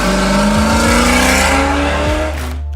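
A supercharged 1968 Dodge Charger R/T roars loudly up close, the blown engine rising through several revs with harsh, rapid gear-change dips before easing off near the end.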